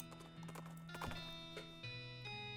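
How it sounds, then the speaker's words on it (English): Horse hooves clip-clop on a road in the video game West of Loathing, a quick, steady rhythm of hoof strikes over sustained musical tones, with no talking. "You spot a guy riding down the road on a brown horse"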